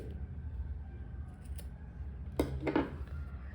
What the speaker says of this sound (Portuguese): E agora eu vou cortar o meu fio aqui.